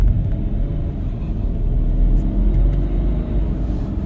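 A BMW X4 F26 3.0d climbing a hill, with a loud, steady low-frequency engine rumble and road noise inside the cabin, continuous throughout and without talking.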